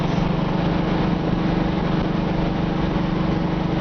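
A 1972 Chevrolet Camaro Z28 with a 383 stroker V8 runs steadily, a loud close continuous engine drone with a throbbing low rumble and no speech.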